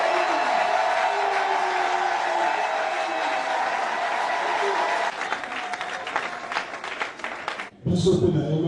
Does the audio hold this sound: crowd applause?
yes